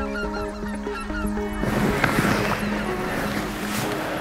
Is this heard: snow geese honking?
yes